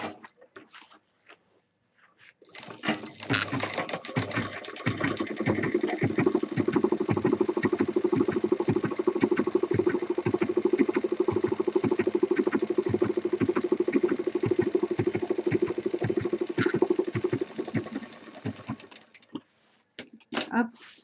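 A sewing machine stitches the side seam of a homemade office handbag, running in one long, steady, rapid whir that lasts about sixteen seconds before stopping.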